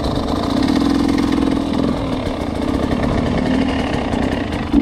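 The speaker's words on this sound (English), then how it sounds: "you can feather the clutch and keep the bike slow and try to keep it going in a straight line" A motorcycle engine running at low, steady revs while the rider feathers the clutch to creep slowly forward, a close continuous drone with slight fluctuations and no talk.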